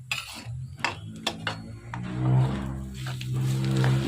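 Dry fruit panjeeri being stirred and mixed with ghee and jaggery in a pan, a spoon scraping and knocking against the pan in irregular strokes over a soft sizzle and hum.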